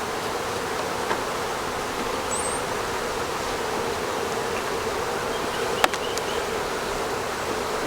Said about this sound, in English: You never know about these bees.